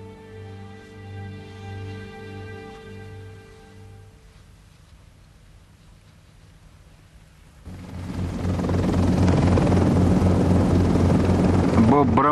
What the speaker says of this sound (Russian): Боб Браунбек поднимает в воздух Феликс, вертолет Калипсо